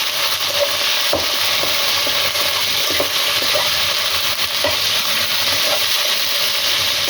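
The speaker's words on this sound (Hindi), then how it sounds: "इसमें टमाटो डाल देंगे। आप इसको बुनाई करेंगे।" Chicken and tomatoes sauté for biryani in a pot, giving a loud, steady sizzle with occasional sharp clinks and scrapes of stirring close by, and nobody speaking.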